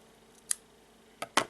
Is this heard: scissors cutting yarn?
yes